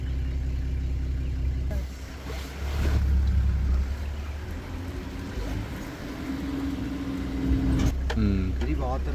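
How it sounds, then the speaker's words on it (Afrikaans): Floodwater pours over a low bridge on a Waterberg game farm near Vaalwater, a steady broad rushing roar that swells and eases while someone talks over it. "Hierdie water gaan hier oor maklik 'n meter en 'n half, 2 meter wat hy oor hierdie brug spoel."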